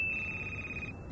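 A phone rings in the video game Crimson Snow, a single sustained electronic trill sounding close and clear for about a second before cutting off, with no one speaking.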